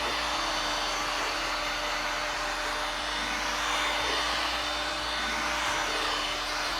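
A heat gun blows steadily and continuously while warming vinyl wrap on a car during wrap removal, a constant close airflow hiss with a faint hum and no talking.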